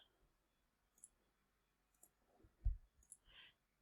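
Several sharp, quiet computer mouse clicks sound in short bursts over near silence while a lighting console layout is set up, with a slightly louder thump and a soft rustle near the end.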